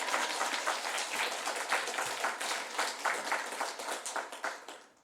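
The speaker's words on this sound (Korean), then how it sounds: "우리 여러분 나올 때 할렐루야 하고 박수로 환영하도록 하겠습니다." A church congregation claps in applause at a Sunday worship service, with steady dense clapping that thins and fades near the end.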